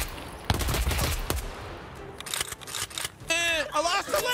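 Gunfire in the video game Escape From Tarkov comes as sharp bursts and single cracks, some rapid and clustered, mixed with players shouting and talking over the shots.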